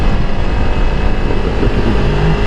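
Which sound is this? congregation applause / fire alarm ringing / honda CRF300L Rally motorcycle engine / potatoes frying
honda CRF300L Rally motorcycle engine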